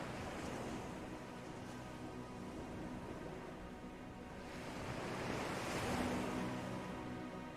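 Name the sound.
ocean waves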